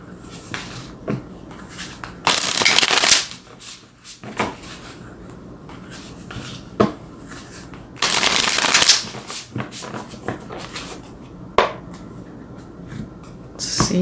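Tarot cards are shuffled in two loud, riffling bursts, separated by quieter taps and handling sounds of the deck, close up and with no talk.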